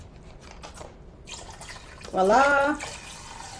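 Vegetable broth pours into a soup pot for vegan minestrone, a short liquid splash swelling for under a second, with a voice speaking briefly around it.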